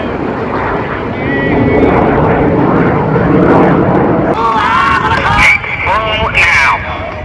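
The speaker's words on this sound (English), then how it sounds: "Listen live once again to the cockpit of Snowbird 8 as he takes the line." Snowbirds jet aircraft at the Gatineau-Ottawa airshow roar loudly and steadily throughout, with radio-style cockpit voices and crowd chatter layered over the engine noise.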